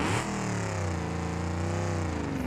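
A D-series truck engine in BeamNG idles and revs with a rough, droning exhaust note, loud and continuous, with harmonics shifting slightly as the revs change.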